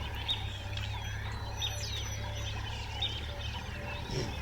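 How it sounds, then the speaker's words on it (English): Birds call and chirp over the Maasai Mara plains at sunrise, a steady chorus of faint, scattered songs above a constant low rumble of open-air ambience. "I can hear the joyous birdsong as the sun rises over the plains"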